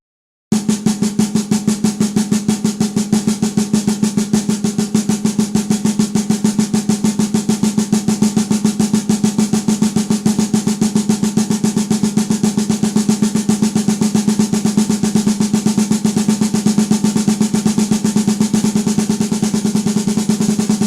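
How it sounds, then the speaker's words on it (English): Unaccented paradiddle sticking on a snare drum, played as an even stream of crisp strokes that gradually speed up over about twenty seconds, sounding alone and close. "So paradiddles are great because they're half singles and half doubles."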